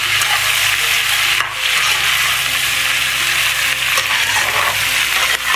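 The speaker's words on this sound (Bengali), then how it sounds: "এবার এগুলো দিয়ে খুব ভালোভাবে আমি এগুলো এবার নাড়াচাড়া করে নিই" Carrots and other vegetables stir-fried in hot oil for chilli paneer give a loud, steady sizzle throughout, with scraping spatula strokes and clatter against the pan running on top and no voices.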